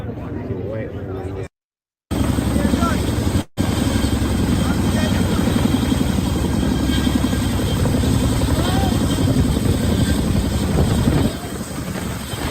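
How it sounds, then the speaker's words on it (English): Two Chinook helicopters thunder overhead, a loud, dense rotor chop that fills the clip steadily, broken by two brief cuts to silence. "Those were two Chinook helicopters"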